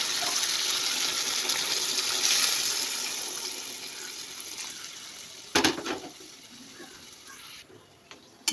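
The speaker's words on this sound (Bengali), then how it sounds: "গরম জল দিয়ে দিলাম" Hot water pours into a vegetarian curry in a pan, making a steady close rushing splash that fades, followed by a brief sharp clatter and a few quieter knocks.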